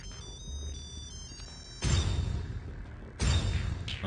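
A phone rings in a comedy scene, its electronic ringtone sounding in two loud bursts separated by a quieter stretch.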